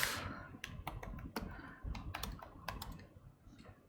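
Rapid typing on a computer keyboard, with irregular clusters of crisp key clicks close by and no voices.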